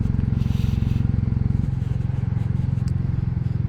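Royal Enfield Classic motorcycle ridden over rough roads, its engine thumping in a steady close pulse with rattles and scraping bumps throughout, no talk.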